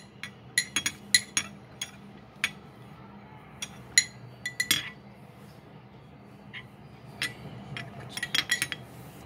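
Slime activator is stirred in a container, producing sharp, intermittent clinks and taps that come in irregular clusters and pause in the middle, with no talking.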